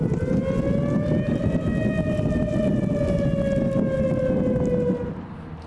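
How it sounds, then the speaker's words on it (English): Tornado warning siren in Frisco, Texas, a steady wailing civil defense tone that rises slightly and holds, loud and continuous for several seconds before fading at the end, with no voices. "sirens could be heard in Frisco as a tornado warning was issued for that"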